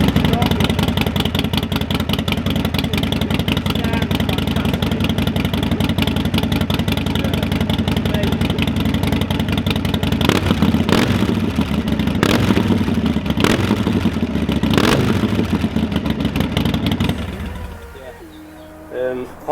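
A Harley-Davidson Sportster 1200 motorcycle engine runs steadily with a loud, dense rumble for most of the stretch, a few revs swelling near the middle before it drops to a quieter idle near the end.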